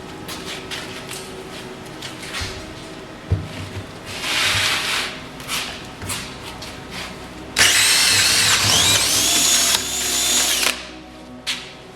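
A power drill bores through a wooden door for a deadbolt, whirring in several bursts that build to a loud, sustained high-pitched grind near the end before stopping.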